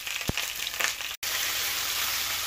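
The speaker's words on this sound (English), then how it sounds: "So we're going to keep turning these till we get a nice brownness on them" Sausages frying in a pan, making a loud, steady sizzle broken by a couple of sharp ticks and a brief moment of silence before the hiss resumes.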